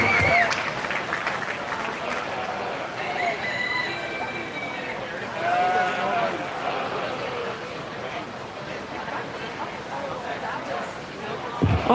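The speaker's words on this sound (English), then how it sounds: "give these guys one more round of applause as they exit the ring" Crowd applause rings out for 4-H and FFA sheep showmen leaving the show ring at the 2022 Lancaster County Super Fair, a steady clapping wash lasting throughout, mixed with a busy arena and talking voices, and an occasional animal call.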